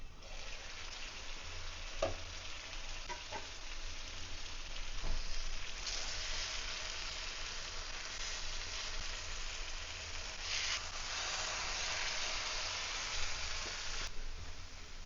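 Eggs sizzling in a pan as they fry for a pepper egg fry, a steady broadband hiss with a few soft scrapes and taps of a spatula as they are flipped, close and continuous throughout.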